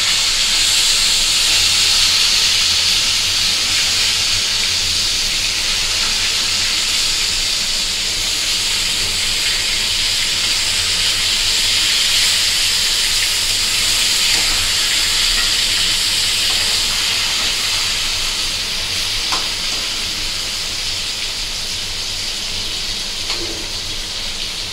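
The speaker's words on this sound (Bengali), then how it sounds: "মিডিয়াম আছে মাছগুলো ভাজবো।" Rohu fish pieces fry in hot oil at medium heat, giving a loud, steady, unbroken sizzle and hiss that runs the whole time with no talking.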